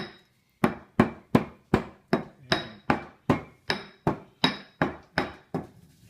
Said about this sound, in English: First, grind up some of the coriander.